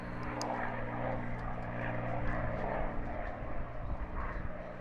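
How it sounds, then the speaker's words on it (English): A P-51 Mustang propeller airplane flies at the Apple Valley air show, a steady, moderately distant engine drone with a low throbbing hum and no talk over it. "there goes Vicky Benzing in her P-51"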